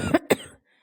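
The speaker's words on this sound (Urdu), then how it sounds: "اس پر ایک بار پھر کھانسی کا شدید حملہ ہوا تھا" Two sharp, harsh coughs in quick succession from a person in a coughing fit, close and loud, ending in silence.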